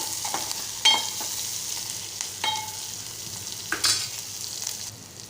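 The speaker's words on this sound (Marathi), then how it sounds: "आता हे मिश्रण आपण व्यवस्थित एकजीव करून परतून घेऊया तेलात आणि थोडा वेळ तेलात भाजू देऊया आपण" Chopped onion and chili stirred and frying in hot oil for a Malvani-style pumpkin dish, a steady close sizzle broken by scraping stirs and occasional clinks, with no voices.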